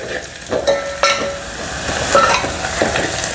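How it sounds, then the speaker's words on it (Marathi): Oil sizzles steadily in a pan as spices fry for tempering urad dal, with a few sharp metallic clinks of a spoon stirring against the vessel. "फोडणी झालेली आहे ही"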